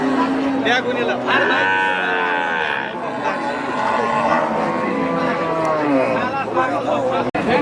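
A dairy cow moos at a busy cattle market in Sharatnagar, long drawn-out lowing calls rising and falling over a steady background of crowd chatter and nearby talking voices.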